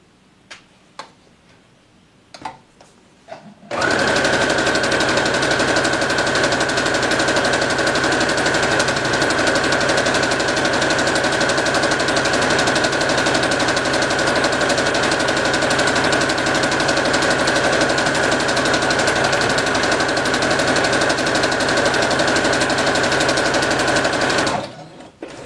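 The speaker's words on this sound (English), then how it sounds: "I'm just going to sew the whole way across at about a 1/4 inch seam." Sewing machine stitching a quarter-inch seam straight across fabric, a loud fast steady mechanical whir with ticking that runs for about twenty seconds after a few light clicks, then stops.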